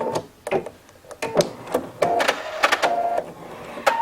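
A sewing machine stitches a pillow in short bursts of rapid mechanical clatter with small pauses between runs, close and fairly loud, with no talking.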